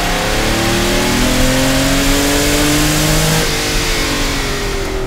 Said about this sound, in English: Dallara did an amazing job of developing this engine, as I shall now demonstrate.